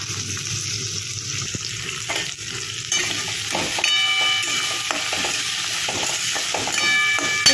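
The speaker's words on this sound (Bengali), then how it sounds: "এবার এটা একটু ভাজা ভাজা করতে হবে।" Flat white beans fry in a pan with spices, salt and turmeric, giving a steady sizzle broken by repeated scraping and clattering strokes of stirring, close and continuous.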